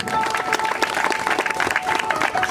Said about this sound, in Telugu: అందరము చప్పట్లు కొట్టాలి.